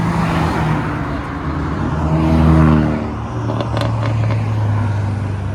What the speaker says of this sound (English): Got a little Lotus Elise rolling out, Series 3